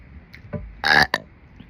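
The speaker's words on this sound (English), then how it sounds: "burp for them for a little bit" A loud, drawn-out burp erupts close up, followed by a shorter second belch, with faint breathing and small noises before and after.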